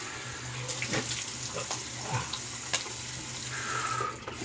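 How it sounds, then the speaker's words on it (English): Tap water runs over a shaving brush while it is rinsed at a sink, a soft continuous splash with light clicks and knocks, faint and close, no voices. "Rinse the brush."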